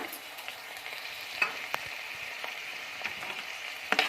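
Palak paneer masala with salt frying in a pan, a low steady sizzle broken by several sharp clicks of a spoon stirring against the pan, close and fairly quiet with no voices.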